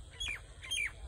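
A crow gives two harsh squawking calls near its nest high in a tree, each call short and loud, spaced about half a second apart over a low outdoor rumble.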